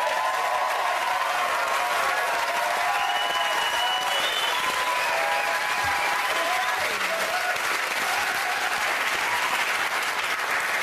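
Studio audience at a comedy panel game show applauds steadily and loudly throughout, a dense continuous clapping that fills the whole stretch, with a little crowd murmur mixed in.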